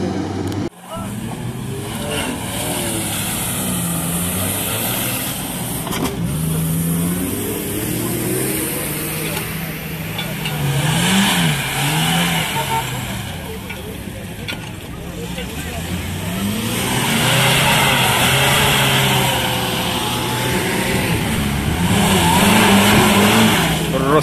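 A heavy off-road trophy truck fitted with a winch, reinforced bumper and large gas cylinder revs its engine hard while the tires skid and squeal, with rising and falling engine pitch throughout and voices talking over the noise.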